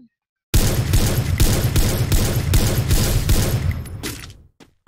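Gunfire erupts in a shooting video game, a loud burst of rapid repeated shots in a steady rattling rhythm lasting several seconds before cutting off abruptly.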